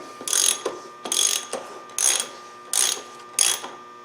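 A 36 mm wrench ratchets a nut loose on the water pump of a 2003 BMW, giving five separate bursts of close, crisp ratcheting clicks with short pauses between them and no talking.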